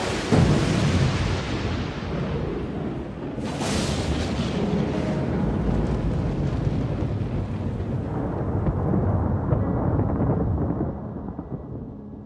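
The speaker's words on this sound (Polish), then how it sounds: "pioruny uderzają wszędzie, również poniżej" Heavy thunder from a thunderstorm in the mountains rumbles loud and deep, with a sharp crack partway through, then rolls on and slowly fades.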